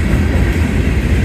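Union Pacific manifest freight cars roll past at Cooper Road, a loud, continuous rumble of wheels and rail noise with faint rhythmic clatter, heard up close and steady, no voices.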